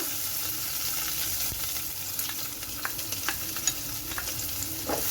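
Crushed cumin, green chili and garlic hit hot oil with mustard seeds for amla rasam, making a continuous close sizzle with faint crackles and light stirring throughout.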